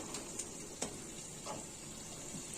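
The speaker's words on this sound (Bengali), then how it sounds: "পেঁয়াজ আর মশলা সুন্দরভাবে কষানো হচ্ছে।" Onion and spices fry in a pan with a little water for a small-fish curry, a soft steady sizzle with a few light stirring clicks, faint and close, no talking.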